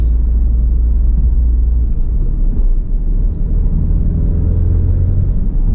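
A 2017 Chevrolet Camaro with the 2.0-litre turbocharged four-cylinder accelerates hard in sport mode with traction control off, giving a loud, deep, steady engine rumble from inside the car that holds throughout.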